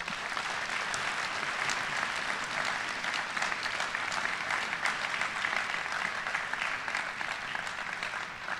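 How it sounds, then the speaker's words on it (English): Audience at a university opening day address breaking into sustained applause, a dense, even wash of clapping hands lasting several seconds in a large hall, with no speech over it. "Let's stop for a moment and give ourselves a round of applause."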